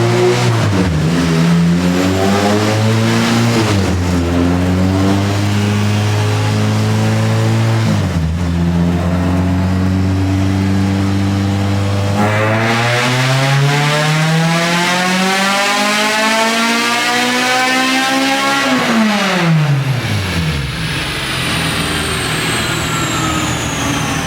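Honda K24A engine revving hard on a dyno, loud and close, climbing through repeated rising pulls with brief drops between gears, then a long sweep to high revs before falling back to idle.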